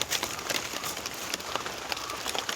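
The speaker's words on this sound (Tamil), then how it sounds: "கரெக்டாக மழையும் பெஞ்சு" Steady rain pours over a banana plantation, a dense hiss of drops spattering on leaves and ground with no letup and no voices.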